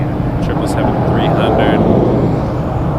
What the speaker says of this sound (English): it looks like Air Canada 56 to Dubai is also taxiing